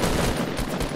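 Gunfire in the video game Fortnite: a dense, continuous burst of rapid shots filling a single second, loud and close with no pause.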